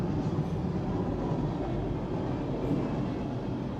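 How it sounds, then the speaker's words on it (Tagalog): A train rumbles past nearby, a steady low clatter of rail cars rolling along the track that holds at an even level throughout. "Here comes the train."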